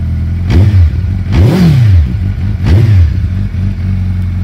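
A 2012 Suzuki GSX-R1300 Hayabusa motorcycle with dual Yoshimura exhausts revs hard three times, each throttle blip rising and falling with a deep, throaty exhaust note, close and loud.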